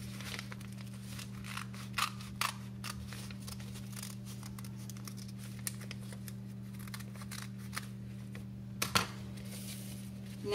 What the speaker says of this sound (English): take your scissors and cut along the line that your parents made for you